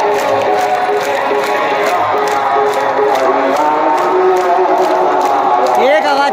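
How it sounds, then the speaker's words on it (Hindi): A huge gathering at a Shiv Mahapuran katha claps in rhythmic unison, loud and dense, with crowd voices and chanting mixed throughout. "एक आवाज पे सभी लोगों ने ताली बजा दी।"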